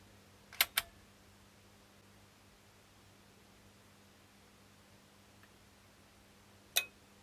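Two sharp clicks close together from the speaker protection relay of a Yamaha RX-450 stereo receiver engaging, followed by a long quiet hum and a third single click near the end.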